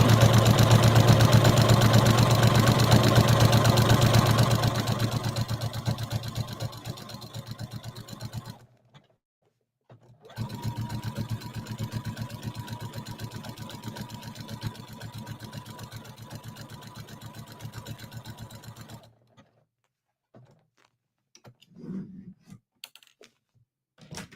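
A sewing machine stitches around an appliqué on a beach towel, running with a rapid, steady mechanical whir that is loud at first and then softer, stopping briefly around the middle and again near the end, with no talking.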